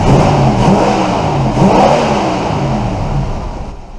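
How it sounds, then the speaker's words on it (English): Close up at the exhaust, a 1977 Ford Thunderbird engine with new spark plugs rumbles loud and steady, revving briefly before easing back and fading slightly at the end, with no voices. "Now we can hear at the exhaust that it's a lot smoother."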